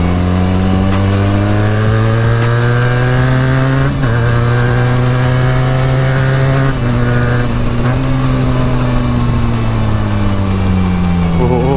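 A Benelli 300 motorcycle engine on a solo road ride drones loudly and steadily up close, its pitch climbing and sagging, with brief dips around gear changes.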